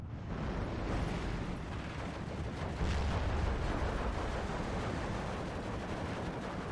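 Continuous rumbling barrage of 88 anti-aircraft gun fire aimed at IL-2 planes in the Steel Division 2 war game, dense booms and crackling blasts layered into a loud, sustained roar.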